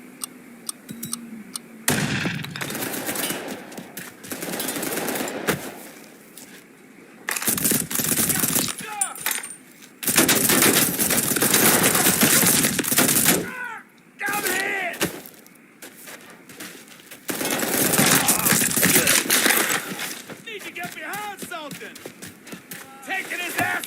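Machine gun fire from the video game Mafia 3 rattles in long loud sustained bursts, broken by short pauses, while a voice talks over the shooting at times.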